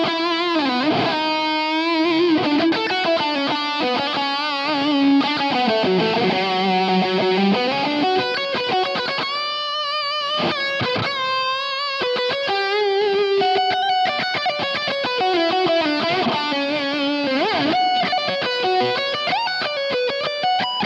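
A distorted electric guitar through a Boss Katana amp plays a solo alone, with sustained bent notes and fast melodic runs, loud and saturated throughout.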